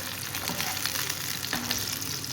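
Onions fry in hot oil in a pan for baingan bharta, making a continuous close crackling sizzle with a few scraping stirs, no voices.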